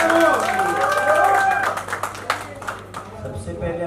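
Audience applause at a Bhojpuri music event, a dense wash of clapping that swells loudly at first and then thins and fades over about four seconds.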